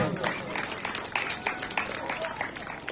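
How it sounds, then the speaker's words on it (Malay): Audience clapping at a Gawai 2022 evening gathering in Kampung Sebako, a rapid scattered patter of many hands, moderately loud and steady throughout, with a voice speaking over it. "Bagi tepukan dahulu"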